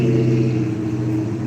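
A loud truck rumbles by close at hand, a dense low engine drone that stays steady and heavy through the whole short moment.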